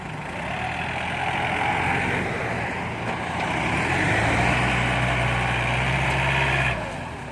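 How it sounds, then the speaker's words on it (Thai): A heavy tractor engine runs steadily at close range with a deep rumble, its pitch rising slightly midway before cutting off near the end. "นี่ครับรถไถครับดัน ยันมากครับ"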